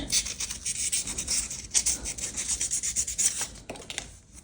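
Continuous rough rubbing and rasping of an emery board sanding material by hand while making a homemade Apple Watch strap, steady back-and-forth strokes, close and alone.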